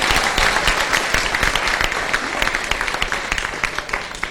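An audience claps loudly and close by during a talk. Sharp, distinct hand claps form a busy crackling wash that stays strong for the whole span and eases slightly toward the finish.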